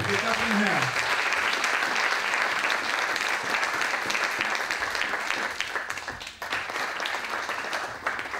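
Sustained applause from a large congregation in a church in Aachen, steady clapping filling the space throughout with a few voices mixed in.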